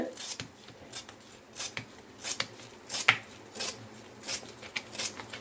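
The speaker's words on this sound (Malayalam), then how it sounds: "ഇനിയാണ് ഞാനിത് അരിയാൻ പോകുന്നത് വട്ടം വട്ടമാണ് അരിയുന്നത്" A knife slices a banana stem into round pieces on a cutting surface for pickling, giving a steady series of crisp chops roughly every half second, close up, with no voices.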